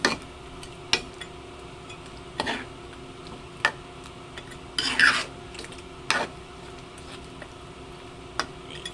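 A spoon stirs chicken curry in a cooking pot with no talking. Irregular close scraping strokes rub against the metal, some short and some longer, over a quiet kitchen background.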